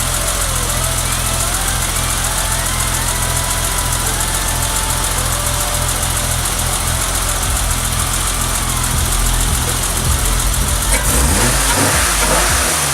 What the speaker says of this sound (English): Let's see what happens when I rev it.